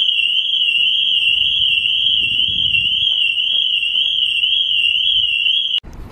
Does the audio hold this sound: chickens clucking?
no